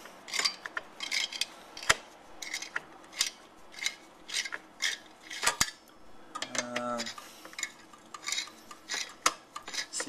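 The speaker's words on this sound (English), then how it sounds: "there's four screws for the CPU fan. So I'm just gonna unscrew these" Small screws holding a CPU fan are worked loose with a screwdriver, giving close, intermittent metallic clicks and scrapes in short bursts, with a brief rattling squeak partway through.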